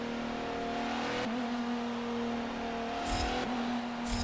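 A 1988 Nissan 300ZX engine in Forza Motorsport 7, a steady droning note with a slight pitch dip and recovery mid-way, holding at a constant level throughout with no talking.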